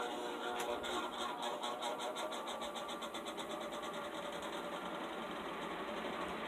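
A Toastmaster box fan in an atomic orange color runs at low speed, giving a steady, close whirring drone with a fast repeating flutter and no talk over it.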